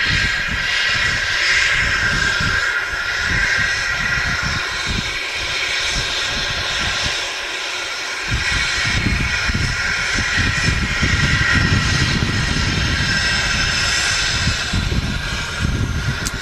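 An Embraer Phenom business jet taxis at Manchester Airport, its engines giving a steady, loud whining roar that holds throughout with no voices.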